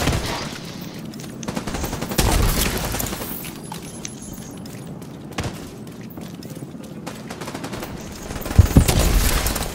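Rapid gunfire bursts in The Division 2, loud and close, with repeated volleys of shots layered over a busy game soundscape and a heavier cluster of blasts near the end.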